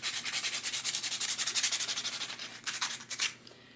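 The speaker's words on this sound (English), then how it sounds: "make sure that you're not pushing the drill too hard into the nail when you're trying to get the gems off" A nail drill buffs lightly over gems set on acrylic nails, giving a close, steady whirring scrape that wavers in pulses as it moves across the surface, then stutters and stops.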